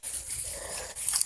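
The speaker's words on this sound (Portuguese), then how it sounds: "É nosso cachorro de guarda." A young guard dog makes a brief soft whimper or whine, heard up close in an outdoor woodland setting with a faint rustle around it.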